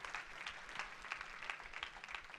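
A church congregation claps together, a dense steady wash of many hands with slight swells in intensity, moderately distant and heard with no voices over it.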